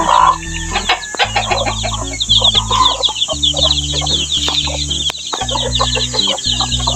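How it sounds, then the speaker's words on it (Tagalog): A native hen clucks steadily near her brood of fifteen chicks, with repeated close clucks, the chicks' high peeping, and a rooster crowing in the background on a farm. "At dito po naman sa kabila ay native chicken po yan, native hen."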